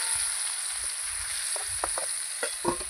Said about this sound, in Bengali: নাড়িয়ে ভালো করে কুমড়োটা আবার ভাজতে দেবো।